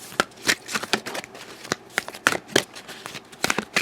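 Oracle cards being shuffled by hand during a tarot reading, a quick series of crisp riffling and slapping bursts in an irregular rhythm, close and fairly loud, with no voices.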